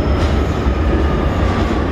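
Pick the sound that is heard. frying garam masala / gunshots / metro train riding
metro train riding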